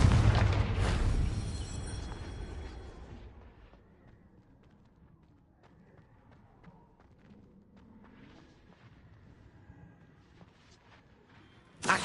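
A loud Confringo spell explosion in Hogwarts Legacy booms at the start and rumbles away over several seconds into a quiet tail of faint scattered clatter, ending with a sudden short thump.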